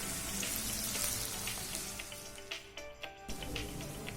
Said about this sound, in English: Now stir it properly and then let it cook.